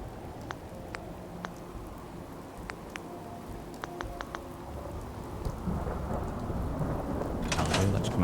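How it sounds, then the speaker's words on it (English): Steady rainfall in the Fallout 4 video game, with low thunder rumbling underneath and swelling louder toward the end, heard alone with no talk. "Let's come out of this because we've got rain coming in."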